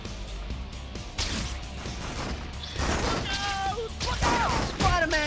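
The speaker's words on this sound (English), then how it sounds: "Some thugs are shooting at the police!" Rapid bursts of gunfire and crashing impacts in the PS2 game Spider-Man 2, with voices calling out and shouting in the mix.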